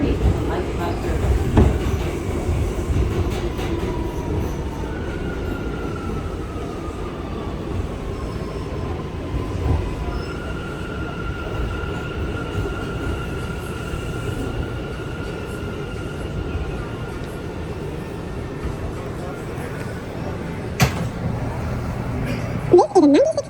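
An R179 New York City subway car on the A train, rerouted via the F line, runs steadily with a continuous rumble, wheel clatter and faint squeals throughout, as onboard announcements play.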